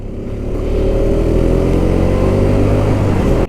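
A 2022 KTM RC 200 BS6 motorcycle being ridden, its engine droning loud and close at a steady pitch for about three seconds before cutting off abruptly, with no talking.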